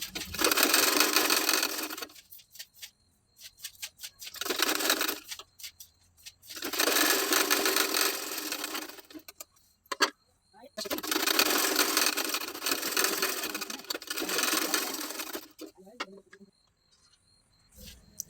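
A tailoring sewing machine stitches tucks on fabric in loud close bursts of a few seconds each, separated by short pauses, with brief handling clicks and a voice talking in between.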